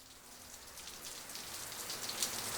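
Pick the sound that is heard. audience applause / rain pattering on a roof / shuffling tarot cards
rain pattering on a roof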